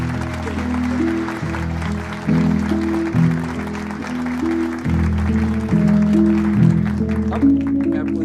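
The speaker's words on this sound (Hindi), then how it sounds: "ताली बजाइए जोर से आप लोग।" A classroom audience claps loudly for a couple of students, the applause running steadily under and between a man's speech.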